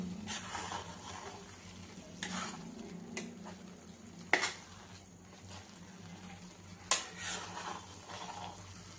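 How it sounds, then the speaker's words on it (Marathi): Fresh coconut mixture with cardamom powder being gently stirred in a pan, a faint soft sizzle with occasional sharp scrapes and taps of the spoon against the metal. "आता हे मिश्रण आहे ना आपण हलक्या हाताने चांगलं मिक्स करून घ्यायचं"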